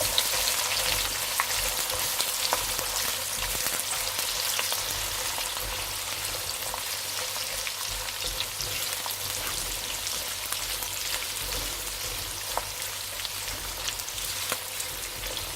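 Chopped onion frying in hot oil for mutton lababdar, a steady dense sizzle that holds at an even level throughout, with a few faint crackles and no talking.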